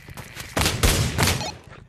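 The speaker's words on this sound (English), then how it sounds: "they're shooting at me" Gunfire bursts in a chaotic VR shooter game on custom maps, loud sustained volleys starting just past the half-second mark and rolling on for over a second before fading, with no talking.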